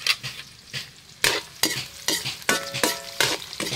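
Onion and garlic sautéing in a pan for chicken tinola, a steady close sizzle broken by repeated bursts of stirring and spatula scrapes against the metal, with no voices.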